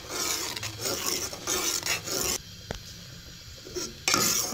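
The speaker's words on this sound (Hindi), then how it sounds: "कस्टर्ड ऐड करने के साथ ही हमने इसे लगातार हिलाते रहना है ताकि ये नीचे नहीं लगे" A spoon scrapes and clinks steadily around a pot on the stove as custard is stirred over a medium flame, close and continuous, with a brief quieter pause partway through.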